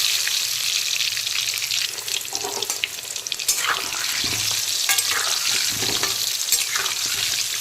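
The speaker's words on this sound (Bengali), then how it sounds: "এখন আমি একে একে হলুদ মাখানো আলুগুলোকে তেলের মধ্যে দিয়ে দেবো।" Turmeric-coated potatoes frying in hot oil, a steady close sizzle that runs the whole time, with occasional stirring and clinks over it and no talk.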